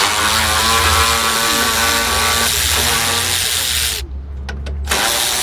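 Power tool running steadily and loud while removing radiator bolts on a 2008-2016 Chrysler Town & Country, with a continuous droning whine that drops out briefly near the end and then resumes.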